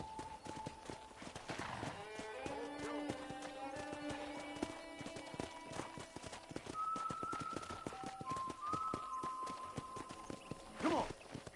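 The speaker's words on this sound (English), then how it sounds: "let's see if you can still ride a horse" A ridden horse clip-clops through a ranch with a steady, close rhythm of hoof strikes, while drawn-out animal calls, including a cow-like low, rise in the background and a brief sharp burst lands near the end.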